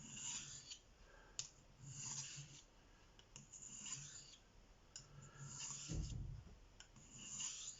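A knife blade is drawn back and forth across a 2000 grit Spyderco sharpening stone, giving repeated close raspy strokes in a steady rhythm with no talking.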